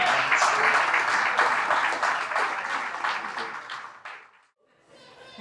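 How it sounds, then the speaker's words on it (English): Wedding guests applaud after a toast, a full, loud round of clapping that fades out over about four seconds, followed by a brief quiet and faint noise. "Big round of applause for Morgan."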